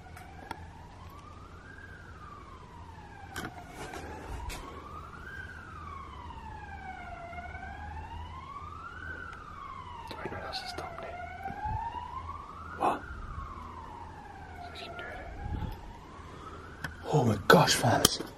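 A wailing police siren rises and falls in long, steady sweeps at a moderate distance, with occasional clatter and voices breaking in near the end.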